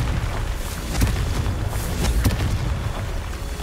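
Confringo explosive spell blasts in Hogwarts Legacy: a continuous rumbling boom with a couple of sharper cracking impacts, loud and full, no talking.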